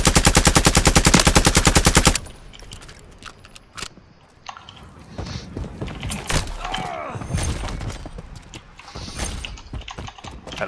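Rapid automatic gunfire in the video game Modern Warfare III, a loud continuous burst for about two seconds, followed by quieter in-game rumble, scattered shots and mechanical clatter.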